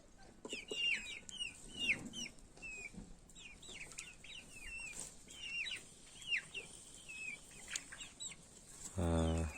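Chickens and young chicks cluck and peep close by in a farmyard, a scatter of short chirps and clucks throughout, ending with a brief flurry of louder clucking.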